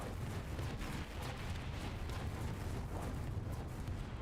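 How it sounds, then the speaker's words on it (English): Explosions and artillery blasts rumble through a War Thunder tank battle with a Centurion, a dense, continuous low roar of booms layered without pause at steady loudness. "Many explosions."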